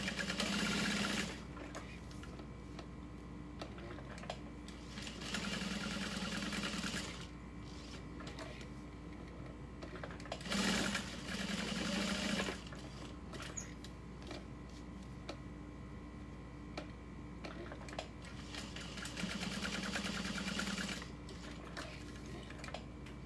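A sewing machine stitches handbag pieces together in several bursts of steady mechanical whirring, separated by quieter pauses, with no talking.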